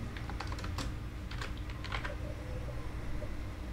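Rapid clusters of computer keyboard keystrokes, typed in short bursts over a steady low hum, close and fairly quiet, with no one talking.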